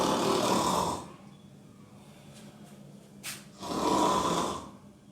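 A voice imitates loud snoring: two long rasping inhaled snores separated by a quiet pause with a brief snort.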